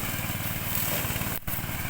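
Thai-made ride-on lawn mower with a 13 hp engine and two cutting heads, running loud and close with a steady droning engine and a brief dip in sound partway through.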